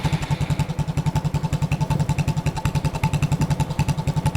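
A Honda Super Cub idling through a Takegawa P-Shooter exhaust gives fast, even low-pitched pops with a light mechanical clatter, close and steady throughout.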